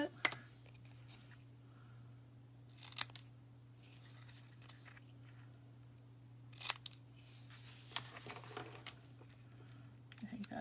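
A few crisp scissor snips trim a Merry Christmas sentiment strip for a handmade sparkly deer card, sharp brief cuts spaced over a quiet low hum with no talking.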